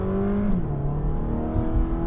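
A 2015 Dodge Dart GT accelerating hard from a standstill to 60 mph, the engine droning loudly from inside the cabin with rising pitch and a gear shift midway.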